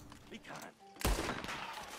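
Gunfire in Red Dead Redemption 2 Online, a sharp loud shot bursting in partway through after quieter game sounds, followed by a ringing decay.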